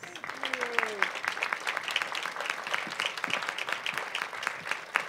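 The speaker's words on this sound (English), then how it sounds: "Can we give a warm applause?" A room full of people claps steadily, a dense patter of hands close by, with a brief voice heard at the start.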